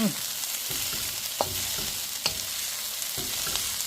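Chicken lumpia filling for Filipino lumpia sizzles steadily in a pan, with occasional scrapes and stirring clicks over the constant hiss.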